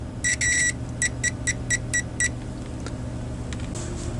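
A Radio Shack 22-216 multimeter beeps during its analog continuity test, a loud tone at first, then a run of six or seven short, evenly spaced beeps over a steady background hum, heard close with no voices.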